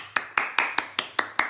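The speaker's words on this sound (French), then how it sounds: "et applaudissez-vous" Participants at the end of a self-defense class clap together, seven sharp evenly spaced hand claps at a steady rhythm, close and moderately loud, with no talking over them.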